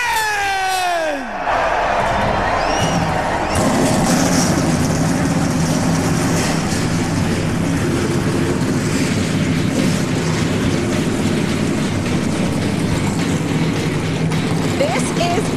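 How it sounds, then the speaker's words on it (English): NASCAR stock car engines fire up at Daytona for the Gatorade Duel, settling into a loud, sustained low rumble of many engines idling together, with crowd noise and a brief voice at the start. "Gentlemen, start your engine!"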